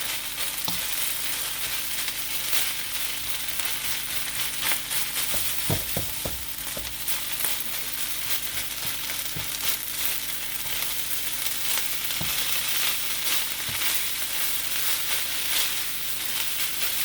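Chicken fried rice sizzles and crackles steadily in a hot pan, with occasional scraping and stirring knocks, no one speaking.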